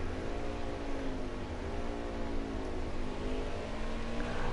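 A race truck engine in the B&L Transport 170 Truck Series at Mid-Ohio howls at high revs while braking hard for the right-hand turn 4, a sustained loud droning whine with no voices.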